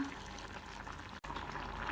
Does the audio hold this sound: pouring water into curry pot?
yes